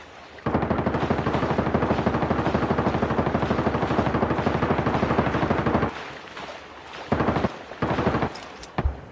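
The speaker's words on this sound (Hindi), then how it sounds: "तो यहाँ पे बहुत ही गंदी फायरिंग होती है" Dense, continuous automatic gunfire rattles loudly in Call of Duty Mobile for several seconds, then breaks into a few shorter separate bursts with gaps between them.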